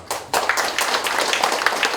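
Applause breaks out in a large auditorium at the founding ceremony of the Kim Dae-jung Foundation's Seongnam branch. A hall of people claps loudly and steadily, starting abruptly after a brief quiet and continuing without speech.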